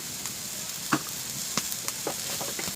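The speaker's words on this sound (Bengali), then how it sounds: "ভালো করে কিন্তু নেড়ে নেব" Egg mixture with salt, chili powder and turmeric is stirred in a pan. It gives a quiet, steady sizzle broken by a few soft scraping taps of the utensil, with no talking.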